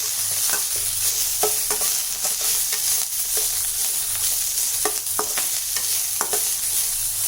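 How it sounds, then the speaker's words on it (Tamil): Sliced onion and curry leaves sauté in hot oil in a pan for a potato appalam kootu, a steady sizzle with repeated scraping stirs of a spoon against the pan, close up and with no talking. "இதை நல்லா வதக்கி விட்டுக்கலாம்"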